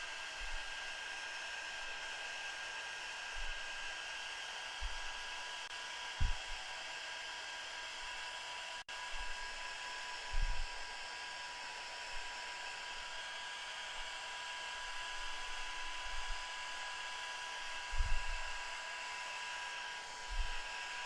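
A hair dryer blows steadily throughout, a constant whirring hum with a few soft low bumps and thuds in the background.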